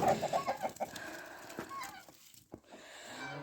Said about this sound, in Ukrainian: Так, ось кури, гуси, качки.